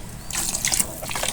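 Water poured into a pan of hilsa fish and eggplant curry, a short splashing stream that starts abruptly, with bubbly pouring and trickling close by, alone without talk.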